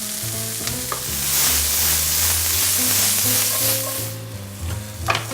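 Zucchini and onions sauteing in a pan, a steady close sizzle and hiss with a light clink near the end, over a faint tonal background hum.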